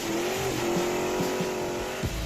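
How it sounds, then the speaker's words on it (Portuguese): A Ford Maverick engine, a 1970s American car, runs and revs steadily at close range, its tone rising slightly and then dipping near the end, with no voices. "Você já se sentou ao volante de um Ford Maverick e sentiu a força do seu motor?"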